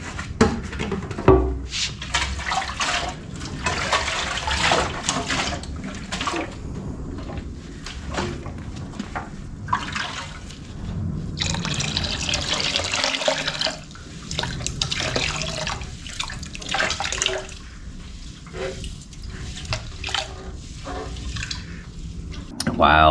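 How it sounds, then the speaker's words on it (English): Running water rinses white vinegar and rust out of a part from a 1974 Yamaha Enduro dirt bike, a steady splashing and dripping that continues while someone talks over it. "Rinse that out."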